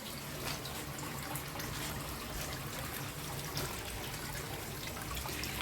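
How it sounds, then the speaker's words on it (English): Water starts to flow through a small aquaponics system built for a school project, producing a steady trickling wash of liquid that stays constant at moderate level, with no talking. "you can see that the water's starting to flow"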